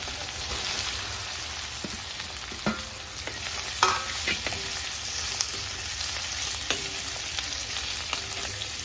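Cut potatoes with turmeric fry in a pan with a steady hiss while a spoon stirs them, adding occasional scraping clicks and knocks against the pan.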